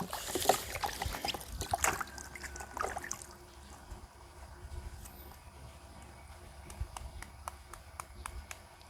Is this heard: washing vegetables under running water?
yes